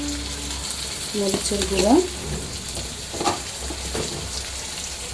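Onion, ginger and garlic frying in a pan with chili powder being added, a steady sizzle with stirring clatter, heard under someone speaking briefly.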